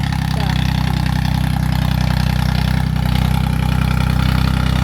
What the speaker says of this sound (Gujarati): તો જોઈ શકો છો આપણું ટ્રેક્ટર ફરે છે।